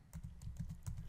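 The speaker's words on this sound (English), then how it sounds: "We're going to type JUnit" Quick, light clicking of typing on a computer keyboard, about a dozen close keystrokes in an uneven rhythm, quiet and alone with no talk.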